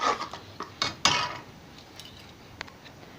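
A spoon scrapes and clinks against a pan as prawn curry with garam masala is stirred, giving a few close, sharp knocks in the first second that fade to quiet.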